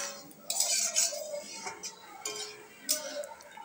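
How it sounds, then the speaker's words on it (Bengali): A metal spatula stirs and scrapes fish in a pan over a high gas flame, making irregular clinks and scraping strokes close to the listener, with a faint background hiss. "আমি এইভাবেই কন্টিনিউ খুন্তি দিয়ে নাড়াচাড়া করতে করতে"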